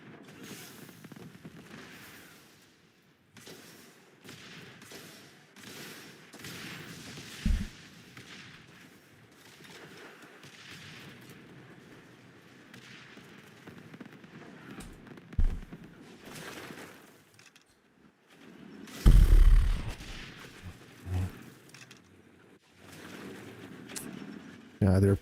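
In the war game Warpath, bombing and gunfire come as scattered bursts and heavy thuds over a quiet, low battle rumble, with a loud cluster of blasts near the end.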